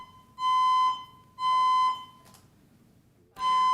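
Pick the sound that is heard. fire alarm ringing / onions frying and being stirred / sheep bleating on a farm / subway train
fire alarm ringing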